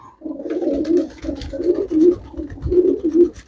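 Flying pigeons offered for sale coo repeatedly in close, rhythmic throaty bursts, several overlapping calls with faint scratching underneath and no talk.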